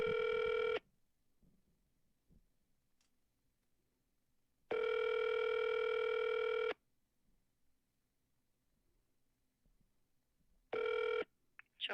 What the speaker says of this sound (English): Your call is now being forwarded.